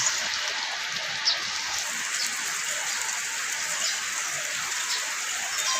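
Steady rain patters continuously on a surface, a soft even hiss with occasional louder drops nearby.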